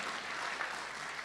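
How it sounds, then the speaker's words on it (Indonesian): A church congregation at an anniversary service in New York breaks into lively applause for the Lord, a dense, even wash of many hands clapping for just over a second. "Tepuk tangan yang meriah bagi Tuhan"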